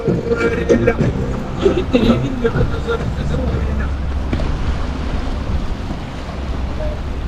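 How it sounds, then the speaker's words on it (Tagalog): Strong seaside wind buffets the microphone with a deep, constant rumble while people talk over it outdoors during shore fishing. "Ang lakas ng hangin"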